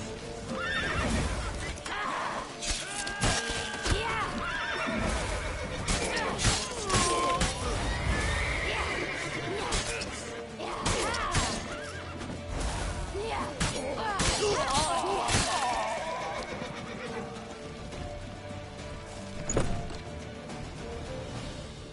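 Horses neighing and hooves clip-clopping in The Witcher 3 video game, with repeated whinnies, galloping hoofbeats, crashes and shattering amid a chaotic action scene with shouted voices throughout.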